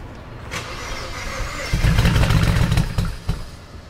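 A BMW 335 engine cranks and fires up after walnut blasting, with a loud rumbling catch that settles into a rough, uneven idle with a couple of revving surges, close by.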